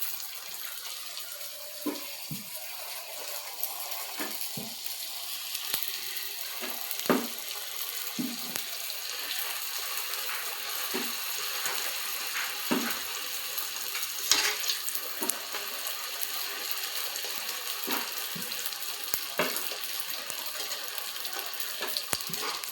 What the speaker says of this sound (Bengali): এবার এইগুলোকে নিয়ে এবার ভাজবো।